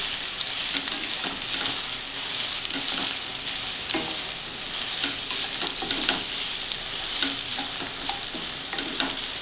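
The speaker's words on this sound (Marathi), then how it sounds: "आपण आता या वड्या तेलात घालू आणि चांगलं परतून घ्यायचं" Vadi dumplings fry in hot oil with a dense, constant sizzle, while a spoon stirs and turns them, adding scattered scraping knocks throughout, close by and with no talking.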